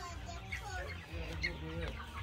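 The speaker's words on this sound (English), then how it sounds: "There's chickens, guys. Look how much chickens there is." Several chickens cluck close by in a busy, overlapping murmur, with a few sharper clucks rising above steady outdoor background noise in Jamaica.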